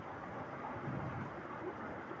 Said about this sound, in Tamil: பலத்த இடியுடன் கூடிய கனமழை பெய்து கொண்டிருப்பதால்